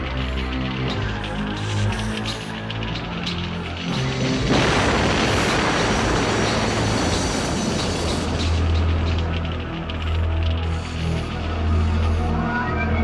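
Fuel storage tanks on a space base blow up in a massive explosion, a loud roaring blast that bursts in mid-clip and rumbles on, preceded and followed by deep sustained booming.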